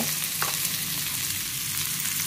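Mustard seeds fry in hot oil for a masala gravy with paneer and capsicum, giving a loud, steady crackling sizzle that runs unbroken throughout, with no talking.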